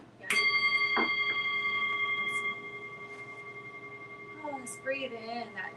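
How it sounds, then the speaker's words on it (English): A single bright meditation chime struck at the start of a group session rings out with a long sustained, slowly fading tone, followed by a second softer ring and a brief voice near the end. "let's breathe in that wonderful chime"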